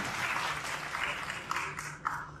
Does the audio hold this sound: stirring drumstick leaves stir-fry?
no